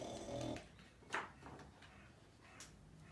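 A voice imitates snoring in a read-aloud story about a snoring dog, giving a couple of soft, breathy snorts in a quiet room.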